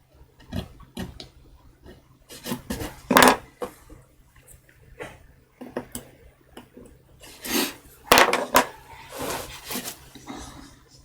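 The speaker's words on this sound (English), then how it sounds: "you're trimming away chunks of wood at a time, now the hardness is really palpable" Hard wood being trimmed with a carving tool for a Japanese woodblock print, heard as a series of close, sharp scraping cuts that come in uneven bursts, with quiet pauses between the strokes.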